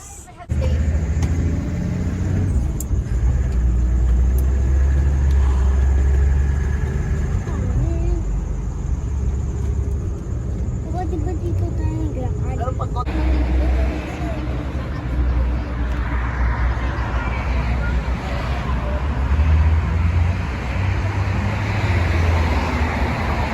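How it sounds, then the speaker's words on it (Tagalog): A car cruising along a road on the way home to Sharjah, heard from inside the cabin as a steady low rumble with traffic noise and occasional voices. "Dito na kami sa sasakyan pauwi"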